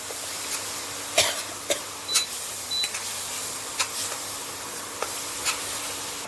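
Masala paste for a drumstick vegetable dish roasting in a pan: a soft, steady sizzle with scattered scraping taps from a stirring spoon, fairly quiet and close, no voices.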